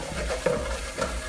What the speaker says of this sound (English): make sure that you remember to stir your flour.